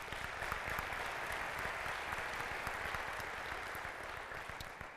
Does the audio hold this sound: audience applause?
yes